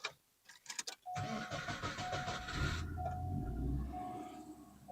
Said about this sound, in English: And the car started.